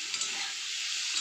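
Shrimp with turmeric frying in a pan gives a loud, steady broadband sizzle throughout, close up and without talk.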